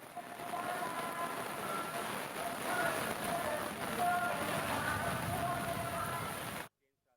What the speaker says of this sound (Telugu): తిరుమలలో భారీ వర్షం కురుస్తుంది